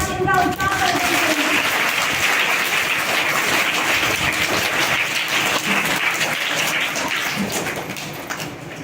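Loud applause from an audience at an Independence Day school program, a dense, steady wash of clapping lasting throughout and fading slightly at the end, with some voices mixed in.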